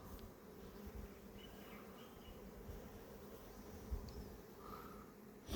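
Honeybees buzz steadily at an open hive during beekeeping work, a dense, continuous droning hum with a few louder individual bees passing close by, no voices.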